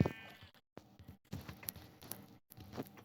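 Minecraft sheep bleat in short game calls among soft footsteps and clicks during parkour play, several brief bleats spaced irregularly at moderate volume.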